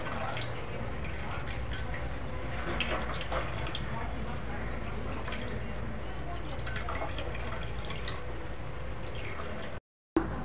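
Grated fresh coconut squeezed by hand to press out coconut milk for solkadhi, the liquid dripping and trickling steadily with soft wet squishes throughout, close up, before a brief cut at the end.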